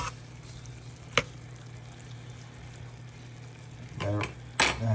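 Turkey and vegetable filling for stuffed peppers is stirred in a pan with a canned ingredient. A low steady background hum carries a single sharp clink and a few soft scraping stirs near the end.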